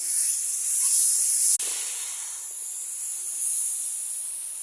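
A pot of pangas fish curry with water lily stems boils over, giving a steady, close hiss and sizzle with one brief break partway through.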